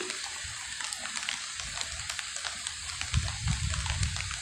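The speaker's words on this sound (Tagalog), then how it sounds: "Ulan na to, hindi na to ambon." Rain falls steadily on a vegetable farm, a soft continuous patter with scattered drops hitting nearby surfaces, and it grows a little heavier toward the end.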